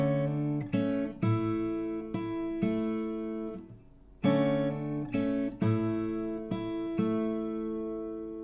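Acoustic guitar picking the opening bar of a song, a repeating arpeggiated riff of ringing plucked notes in a steady rhythm, played up close and clear with a brief pause midway, no voices.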